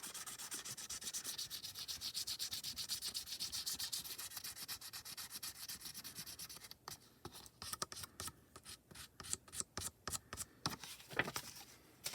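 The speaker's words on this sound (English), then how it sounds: "I wish I had a regular eraser because the sand eraser is going to kind of scratch it a little bit" A sand eraser rubbed across a card to remove excess hot foil makes quiet, continuous scratchy scrubbing, then short, choppy back-and-forth strokes.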